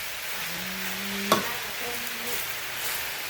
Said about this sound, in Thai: ผัดผักให้สลดก่อนนะคะ ผักให้สลดก่อนให้ยุบก่อน